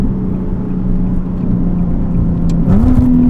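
A Nissan GT-R R35 engine with stock exhaust hums steadily at idle, then revs up briefly near the end with a deeper exhaust rumble.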